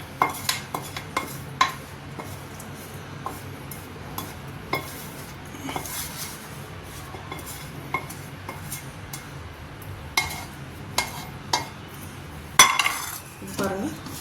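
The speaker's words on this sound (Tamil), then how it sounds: "இப்போ இதை வந்து இதில் கொட்டி கலரிடலாம்" A metal spoon scrapes and clinks against a pan while carrot rice is stirred and tossed, producing soft repeated taps and a brief louder clatter, under a faint kitchen background.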